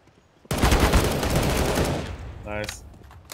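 A sudden burst of rapid automatic gunfire in Counter-Strike: Global Offensive Wingman mode, loud and close, lasting about a second and a half before tailing off, followed by a short metallic rattling effect.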